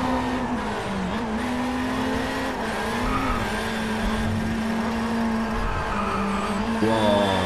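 Race car engine droning steadily inside the cockpit in DriveClub VR on PlayStation VR, with tire noise and a rising pitch shift near the end; loud and continuous, no speech.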